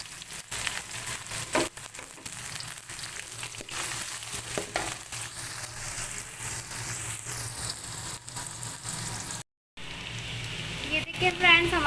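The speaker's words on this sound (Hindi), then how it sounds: "अब इसमें हम प्याज ऐड करेंगे। जो हमने प्याज काट के रखे थे बारीक, वो हम इसमें ऐड करके पकाएंगे।" Finely chopped onions frying in hot oil in a pan for an arvi masala, a continuous close sizzle with crackles and stirring scrapes, with someone talking over it and a brief gap near the end.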